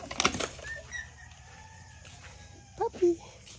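A few short clucks and squawks from chickens near the end, with a brief flutter of wings at the start over quiet background.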